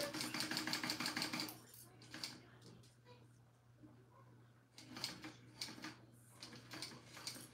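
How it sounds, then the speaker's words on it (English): A sewing machine stitches the panels of a clear vinyl pouch together at a 3/8-inch seam, running in short bursts of rapid mechanical chatter that pause and restart, with a steady low hum underneath. "Now I'm going to sew the panels together"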